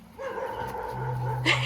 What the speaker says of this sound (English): She will run to the fence and like bark at the other dogs.